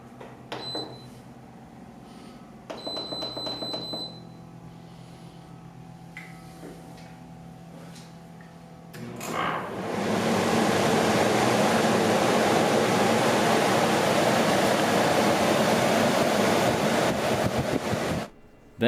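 TOSOT Aolis 12000 BTU portable air conditioner set up in a window and switched to max, a few quiet clicks and beeps first, then a loud steady broadband rush of air that runs evenly for several seconds before cutting off.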